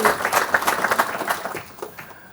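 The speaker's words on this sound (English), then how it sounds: "Ladies and gents, round of applause for our man, Charlie." An audience at an investor show claps for a speaker taking the stage; lively applause with distinct hand claps that gradually tapers and dies away.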